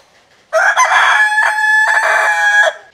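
Up close, a rooster gives one long, loud crow that starts after a brief quiet moment, wavers through a few breaks in the middle and then cuts off, with no one talking.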